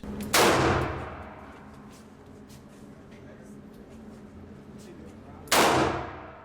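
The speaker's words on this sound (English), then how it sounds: "you'll see people lined up taking target practice" Two loud, sharp gunshots at an outdoor shooting range during target practice ring out several seconds apart, each trailing off in a long echoing decay.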